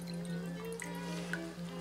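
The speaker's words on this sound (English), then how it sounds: "We're just going to drain the water, then take the Wakame in your hand" Water drains and drips from soaked wakame seaweed being readied for miso soup, with light trickling and a few small splashes over a steady low hum.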